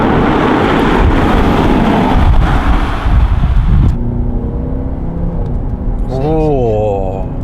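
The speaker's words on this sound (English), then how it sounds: "It gives you quite a lovely muscle car roar when you get on it." A car's V10 diesel engine roars loudly under acceleration with a deep muscle-car rumble, then drops to a lower steady drone while a voice talks over it.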